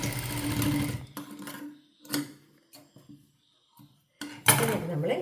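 A sewing machine stitches a coat collar, with a close whirring run at the start and another at the end, separated by shorter mechanical bursts and quiet gaps.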